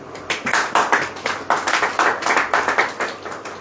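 Congregation clapping hands at a church gathering, a run of brisk rhythmic claps repeating steadily and fairly loud, with no talking.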